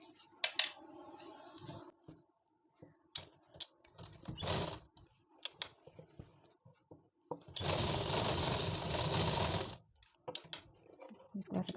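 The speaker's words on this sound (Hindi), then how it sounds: "एक सिलाई लगा लेंगे।" A sewing machine stitches an Afghani palazzo, whirring in short bursts early on before running in one long steady stretch in the middle, with someone speaking quietly between the runs.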